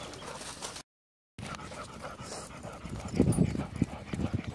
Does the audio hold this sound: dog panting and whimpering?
yes